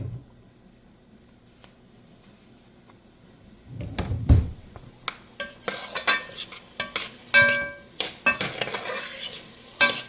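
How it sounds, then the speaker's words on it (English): Canola oil and butter sizzle and crackle in a pot, starting quiet and building into a steady fry with sharp pops and clinks of a utensil. No voices. "Alright, my pot is starting to sizzle."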